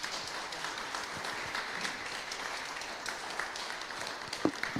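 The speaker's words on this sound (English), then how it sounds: "I want to say this man deserves a round of applause." An audience at an award ceremony applauds the recipient, a diffuse wash of clapping heard from some distance, fairly soft and steady, with one sharper clap near the end.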